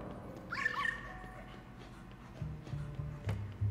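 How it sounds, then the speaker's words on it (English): Polterpup, a ghostly dog in the video game Luigi's Mansion 3, lets out yips and whimpering barks, then a run of short, low barks near the end, heard alone with no talk over it. "Polter Pup, you gotta stop scaring me, bro"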